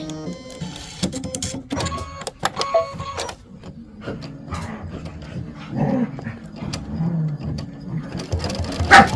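An embroidery machine stitching a candy stripe fill on a bench pillow, with rapid repetitive mechanical stitching and clatter, close and steady, while a dog whimpers and growls in the background.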